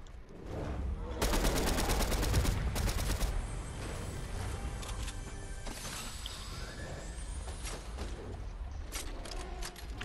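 Video game gunfire: a dense burst of rapid automatic shots up close, then continued scattered firing and mechanical clatter from weapons over a steady background din, with faint voices mixed in.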